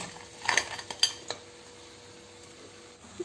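Crab pieces go into a pot of coconut-milk crab curry with a few quick metallic clinks and knocks of a spoon against the pot, then a quiet near-silent stretch.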